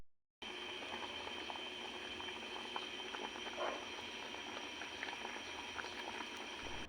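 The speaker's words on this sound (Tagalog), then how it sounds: "At nang sa tingin ko nga, kumukulo na siya" A pot of coconut milk stew with moringa simmers and bubbles steadily, soft popping and liquid patter over a constant low hiss, fairly quiet and close.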